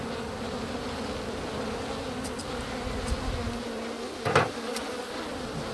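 Honeybees hum steadily around an opened hive in spring, with a constant close drone and a brief louder buzz as one passes near.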